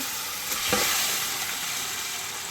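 Boti (offal) and onion frying in a pan, tattukada style, with a steady bright sizzle and a short burst of scraping as the pieces are turned around the middle, continuing evenly and close by without any voices.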